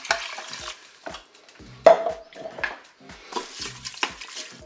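Rice and broth of white wine and water go into a Cookeo pot: scraping stirs, a clank of utensil on metal, and bursts of hissing sizzle from the hot pot, close and fairly quiet, without speech.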